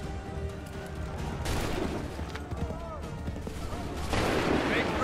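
Musket volley firing in Assassin's Creed 3, scattered gunshots and a fuller fusillade burst amid battle noise, with game chatter mixed in.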